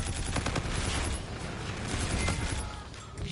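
Continuous rattling gunfire in Infinite Warfare multiplayer, a steady dense fusillade of shots that stays fairly loud throughout and swells slightly toward the end.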